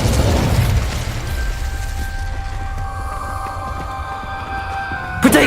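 The Incendio fire spell in Hogwarts Legacy gives a roaring whoosh up front that fades into a sustained tonal hum, then a sharp burst at the end, with no talk over it.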